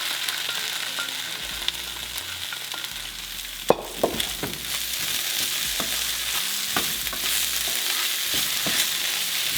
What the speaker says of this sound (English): We're gonna go in with the onions.